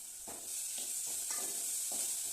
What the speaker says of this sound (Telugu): ఇలా బాయిల్ అవుతుంది